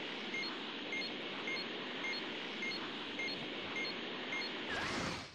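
A repeating electronic beeping alert from Dragon Ball Xenoverse 2, regular short tones over a dense, steady game background.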